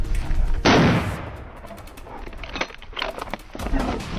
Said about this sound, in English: a sharp gunshot rang out decisively